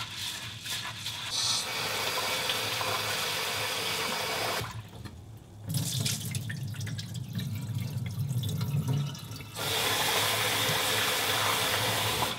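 Rice being washed by hand in a bowl of water, one cup of grain rubbed and swished with running-water and dripping sounds, a steady close wet rustle that drops away briefly in the middle before resuming.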